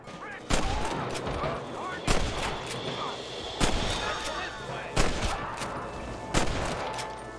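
Gunfire rings out in the Red Dead Redemption video game, with five loud, evenly spaced shots about a second apart over a steady rumbling background, and no talking.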